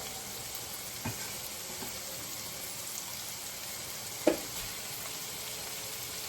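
Chopped tomato added to hot oil frying over high heat in a pan, a steady soft sizzle and hiss running throughout, broken by a couple of brief clinks of a utensil against the pan.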